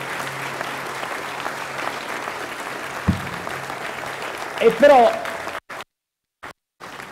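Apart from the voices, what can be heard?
audience applause for Padre Ugo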